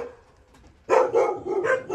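Several sled dogs of Russian working stock at a husky park in Karelia bark in quick overlapping bursts, loud and close after a short quiet stretch, with no talk.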